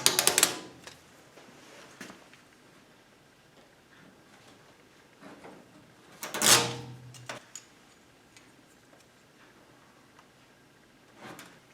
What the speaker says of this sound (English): Now I just need to peel the backing off and take these little clips and stick them onto the door